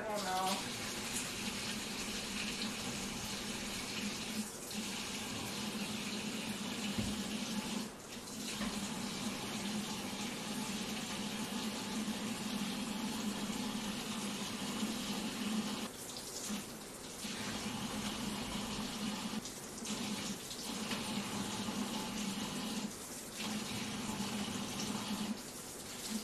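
Hot water runs steadily from a kitchen tap into a sink, a continuous close hiss and splash with brief interruptions as a hand moves under the stream and dishes are rinsed.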